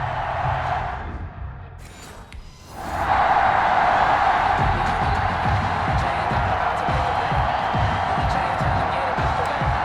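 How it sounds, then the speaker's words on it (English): Stadium crowd at a Detroit Lions versus Green Bay Packers NFL video game swells into a loud, sustained roar of cheering after a brief lull, continuing steadily to the end. "This crowd is ready as their guys get set to match up between the Detroit Lions and the Green Bay Packers."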